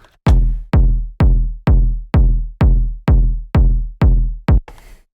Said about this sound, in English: So we have a basic kick sample loaded up here, which sounds like this.